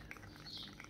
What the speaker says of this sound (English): Wow, the birds are noisy today.